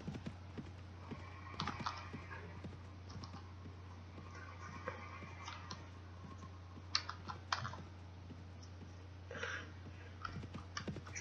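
Steady clip-clop of horse hooves in the video game Mount & Blade: Warband, a continuous rhythmic trot over a low constant hum, mixed with scattered clicks like keyboard typing.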